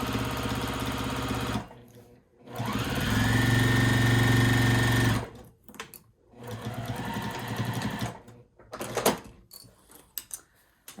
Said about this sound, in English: I do back stitch when I do this, just to kind of lock all those in place